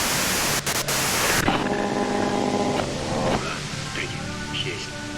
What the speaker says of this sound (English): If you've got something really important to say, you can do it through the white noise.